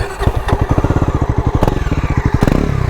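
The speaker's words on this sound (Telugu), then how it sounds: "సో ఒకసారి మీకైతే ఎగ్జాస్ట్ నోట్ అయితే వినిపిస్తాం" A red 2024 Bajaj Pulsar NS400 idling close by, its exhaust giving a loud, rapid, even thumping pulse with a couple of sharper blips that quicken slightly.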